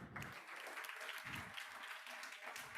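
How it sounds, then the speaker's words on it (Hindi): Students applauding in a classroom, a faint, steady patter of many hands clapping throughout with some low murmuring underneath. "ताली बजाओ भाई के लिए।"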